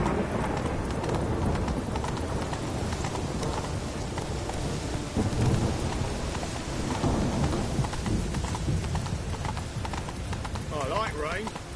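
Steady rain and rumbling thunder fill the air in The Witcher 3, mixed with horse hooves clopping along a road and someone talking over the storm.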